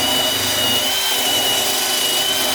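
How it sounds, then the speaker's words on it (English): A wire wheel on a power tool cleaning a farm cart part whirs steadily and loudly throughout, with a constant high-pitched whine over a dense grinding hiss. "I'm gonna wire wheel this and grease it up."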